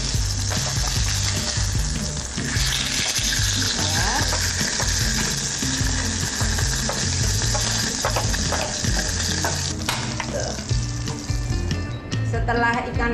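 Red snapper fries in a pan with a little cooking oil, giving a loud, continuous crackling sizzle that fills the whole stretch, with occasional clinks and stirring noises on top.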